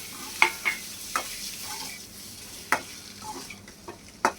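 Pieces of boiled egg stirred into a frying masala: a soft, even sizzle runs beneath several sharp clinks and scrapes of a spoon against the pan, irregularly spaced.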